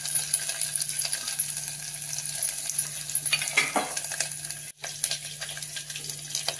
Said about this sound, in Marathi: आता गॅस मंद करूनच आपण हे आलं लसूण आणि कोथिंबीर बारीक ठेचून घेतलेलं आहे खलबत्त्याने, हे आपण त्यामध्ये टाकू